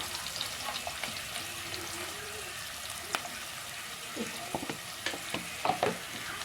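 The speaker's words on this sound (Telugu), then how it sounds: "ఉల్లిపాయలు వేగుతున్నప్పుడు కొద్దిగా ధనియాల పౌడర్" Onions fry in oil with coriander powder added, giving a steady soft sizzle with occasional stirring scrapes and clinks toward the end, fairly quiet throughout.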